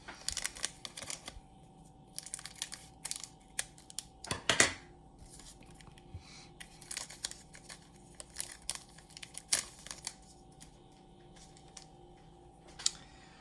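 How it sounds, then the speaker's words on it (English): Snips and crinkles of scissors cutting open foil baseball card packs, irregular short bursts close by in a quiet room. "Get our scissors going here."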